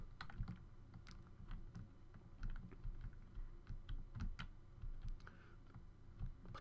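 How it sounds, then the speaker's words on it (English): Computer keyboard keys tapped in quick, irregular bursts during a Minecraft Pixelmon mod session, a steady run of close, crisp clicks over a low background hum. "you actually have to press keys to do it like that."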